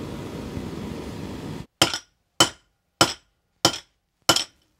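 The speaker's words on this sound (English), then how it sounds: "Hammering it makes it harder. The more it is hammered, the harder it becomes." A metalworker hammers an annealed silver ingot into a three-dimensional pot, striking five or six sharp, ringing blows at an even, unhurried rhythm after a stretch of quiet room noise.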